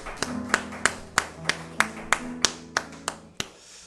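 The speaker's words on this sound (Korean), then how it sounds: "하나님 앞에 영광의 박수 올려드립시다." A church congregation at a Sunday morning service applauds in a clear rhythmic clap, about a dozen even beats in time, close and bright, fading out at the end without voices.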